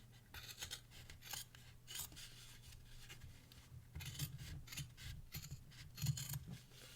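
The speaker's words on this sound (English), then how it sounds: "So I'm just using my fabric scissors here to trim off that extra fabric." Fabric scissors snip away the extra felt-like fabric on a no-sew kitten ornament. Soft, close, repeated cuts and rustles come in an uneven rhythm at low volume.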